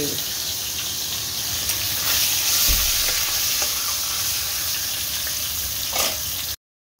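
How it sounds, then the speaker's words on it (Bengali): Pomfret fish frying in hot oil, a loud, steady sizzle and crackle that carries on without a break, with brief spatters and faint kitchen clatter. "মাছ ভাজা"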